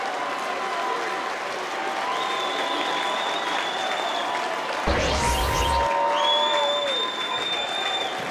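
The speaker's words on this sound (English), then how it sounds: "listen to the Minnehaha fans here" Minnehaha Academy fans at a high school boys basketball game against DeLaSalle keep up sustained applause and crowd noise during a timeout. A swell of cheering rises midway, and whistles and an announcer's voice come through over the crowd.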